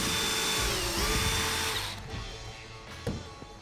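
A power drill driving a fastener into a wooden 2x2 railing, a close, steady motor whir that winds down after a couple of seconds, then a brief second burst.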